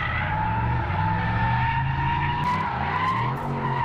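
A Mazda MX-5 drifting on a race track, tires squealing in a steady, loud skid over the engine's continuous roar, heard up close throughout.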